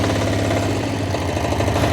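A Motor Sich walk-behind tractor engine idles steadily up close, a loud, even low-pitched chugging with a rapid knocking pulse and no voices over it.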